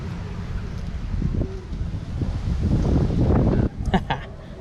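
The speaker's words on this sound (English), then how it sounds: "All this wind is not good." Strong wind buffets the microphone on a windy day of lure fishing, a heavy low rumble that swells and gusts before dropping to a lighter flutter.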